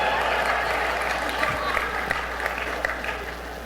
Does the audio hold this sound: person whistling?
no